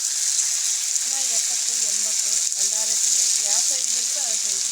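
Fish tawa frying on a hot griddle at a backwaters fish stall, a steady bright sizzle running throughout with faint murmured voices underneath.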